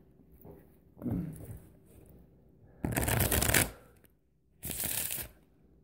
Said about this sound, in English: See, I can do fancy shuffle.